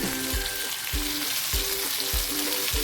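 Kerala-style avoli (pomfret) fish frying in oil in a pan, a steady close hiss of sizzling with repeated low soft thumps roughly every half second, no talking.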